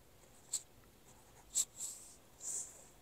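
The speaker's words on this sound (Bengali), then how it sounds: "তো আগে আমি নকশাটা লিখি, দেখেন" Pen writing a design on paper: soft, close scratching with several short, faint strokes spread across a quiet background.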